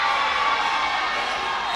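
A volleyball crowd at a National League match in Windhoek, a steady wash of cheering and shouting from a distant court, even and continuous throughout.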